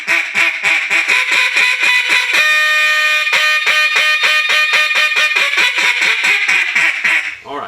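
Loud, rapid hail calls from a duck call blown at the top of its range in competition-style calling, a steady run of sharp, evenly paced quacking notes that carries on for several seconds with no talk over it.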